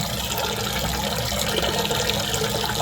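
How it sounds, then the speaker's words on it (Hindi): Raw rice for mung dal khichdi is rubbed and rinsed in water in a home kitchen, a dense continuous splashing and running-water noise at close range with no pauses. "अच्छी तरह इसको रगड़ के हम कर लेंगे वॉश चावल को, जब तक इसका पानी साफ़ नहीं हो जाता"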